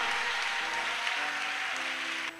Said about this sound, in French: Applaudissez les mains